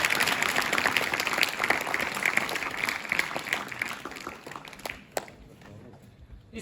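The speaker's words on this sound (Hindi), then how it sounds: "तालियां बजाएं एक बार।" An audience at a farewell ceremony claps in a dense, moderately loud burst that thins out and fades near the end, leaving scattered claps.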